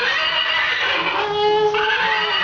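A horse neighs up close, a high, wavering whinny that rises and falls over a couple of seconds against steady outdoor background noise.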